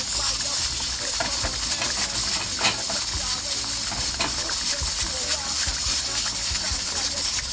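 Spinner dumplings going into a simmering pot of Jamaican-style cow foot and beans make loud splashing and sloshing over a constant bubbling hiss, with a voice talking throughout.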